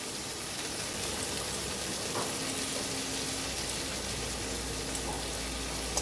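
Spice paste with turmeric and mustard powder fries in oil for a Bengali fish curry, a soft, even hiss of sizzling that runs on without pause.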